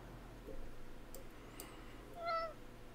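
A cat meows once, faint and brief, rising over a low steady room hum with a couple of soft clicks before it.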